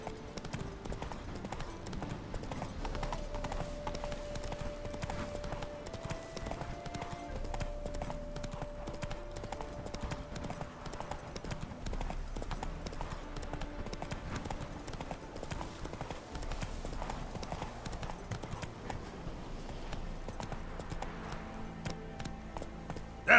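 Horse hooves galloping in The Witcher 3 video game, a steady rapid clip-clop running on and on at close range, under faint background game sound and a few voices.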